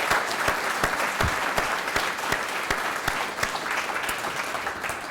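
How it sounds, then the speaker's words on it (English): Audience at a PBLA exec night event giving a steady, dense round of applause, loud and continuous with scattered sharper claps throughout. "Let's give one more round of applause to Sarah for coming out here."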